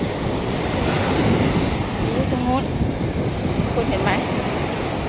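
Steady roar of sea surf washing against the shore at Na Jomtien, Thailand, with gusting wind noise, and a faint voice briefly rising in the middle.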